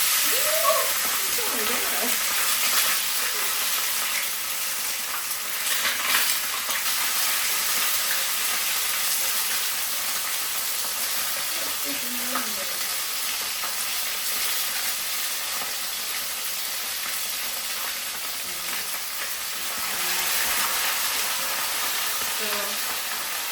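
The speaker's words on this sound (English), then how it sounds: "So be careful when you put in your fish in your frying pan." Fish for Jamaican brown stew fish sizzling in hot oil in a frying pan, a steady crackling hiss that runs throughout, with a voice heard faintly now and then.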